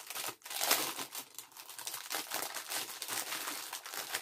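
A plastic package of small beads from a Shein haul being opened by hand, with continuous close crinkling and tearing of thin plastic over about four seconds and no speech.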